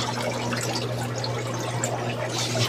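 Water pours and splashes steadily out of a tipped-over container holding tubifex worms, a continuous close, loud gush with a low hum underneath.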